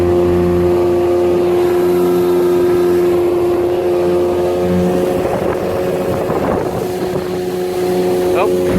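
Zip motorboat on plane, turning hard on open water, its loud steady outboard drone close by with heavy wind buffeting and water spray. Someone talks briefly over it.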